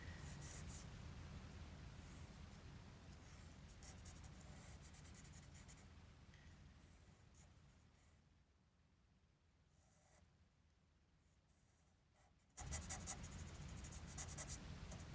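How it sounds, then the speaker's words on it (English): A pen draws a fancy X on a paper treasure map, a quiet, close scratching that runs steadily, fades into a softer pause, then resumes more strongly. "I'm going to draw a really fancy X."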